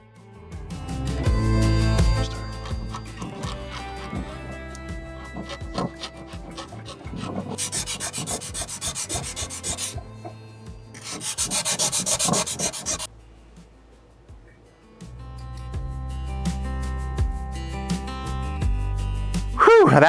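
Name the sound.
scraping old gasket off Big Green Egg ceramic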